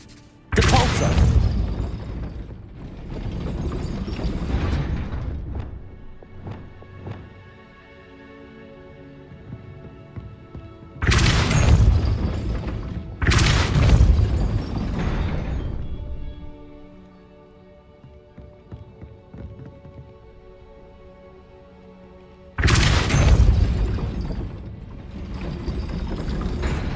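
Repeated Depulso spell casts in the Hogwarts Legacy video game, loud broadband blasts arriving in clusters across the stretch, each followed by mechanical clanking and rumbling ambience between them.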